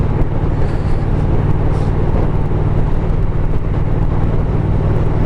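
A Triumph Thruxton R motorcycle cruises steadily in sixth gear at about 50 on a road near Portsdown Hill, giving a constant low engine drone with heavy, unbroken wind rush and no breaks.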